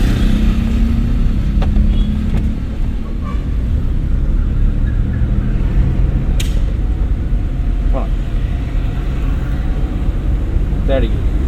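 A driving school car accelerates in second gear, its engine a steady low drone from inside the cabin, with a couple of faint clicks and an instructor speaking over it.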